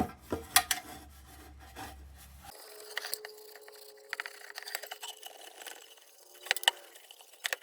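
Steel wool scrubs an old Adlake truck lantern in quiet, uneven bursts of scratchy rubbing, with a few sharper metallic clicks from handling the lamp.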